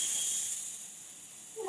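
Steam hisses steadily from the vent of a Healux cooker during the cooking of a vegetable millet biryani, a close, constant high-pitched rush with no talking over it.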